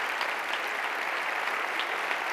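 Conference audience applauding the student leadership team, a steady even wash of many hands clapping at a distance with no voices.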